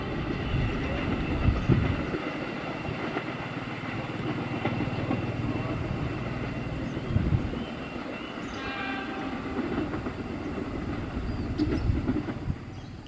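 The Malabar train runs straight through Rancaekek station, a steady rumbling rush of rail cars with wheel clatter and a horn sounding, heard from nearby with faint talk in the background.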